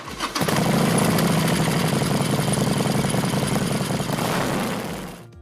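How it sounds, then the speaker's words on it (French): A Harley-Davidson Sportster motorcycle engine runs close and loud in a steady, even rumble for several seconds before it cuts off abruptly. "on regrettera également la sonorité de la moto aseptisée à l'origine"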